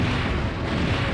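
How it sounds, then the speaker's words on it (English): The Big Bomb Cannon firing in Paper Mario: The Thousand-Year Door, a loud, sustained rumbling blast that fills the whole moment with no voices. "Big Bomb Cannon fire!"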